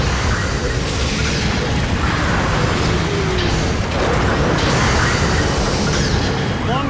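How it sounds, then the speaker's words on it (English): Long-range supporting fire explosions pounding a Gundam Battle Operation 2 battlefield, with dense, continuous rumbling booms and bursts under constant mechanical noise and faint game voices, loud and sustained throughout. "Long range supporting fire incoming."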